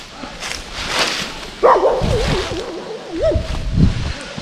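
Dogs bark outdoors at night, and one dog lets out a long, wavering howl that rises and dips through the middle before trailing off, followed by a few more close barks.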